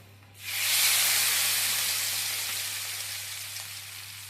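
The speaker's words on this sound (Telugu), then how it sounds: "వేస్తున్నా తాలింపు." Tempering hits hot oil for sorakaya pappu, a bottle gourd dal, bursting into a loud, sudden sizzle that hisses steadily and slowly fades over several seconds, close by, with a low hum underneath and no talk.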